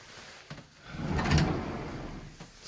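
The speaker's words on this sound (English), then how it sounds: "you got these double sliding doors for this closet" Double sliding closet doors glide along their track indoors, a soft rumbling slide building over about a second, with light knocks at the start and end, fairly quiet and close.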